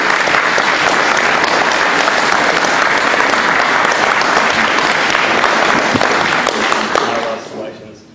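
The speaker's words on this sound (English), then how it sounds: "I think we owe them both a huge round of applause for you." Sustained audience applause at a memorial tribute, loud and dense clapping throughout before tapering off at the end.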